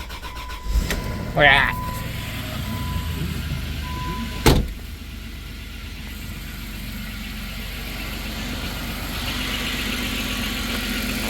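Cold start of a Dodge Caravan: a short cranking burst catches, then the engine settles into a steady, close idle that runs to the end, with a brief spoken remark over it.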